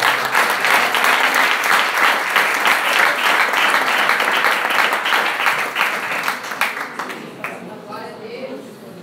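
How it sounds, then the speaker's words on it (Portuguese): A church congregation at a Saturday evening service claps for the Lord in sustained, loud applause that thins out and fades near the end. "E as palmas ao Senhor."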